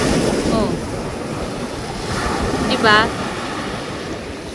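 Ocean waves washing onto a sandy shore, a constant loud rushing surf with wind buffeting the microphone, and brief speech and a shout over it.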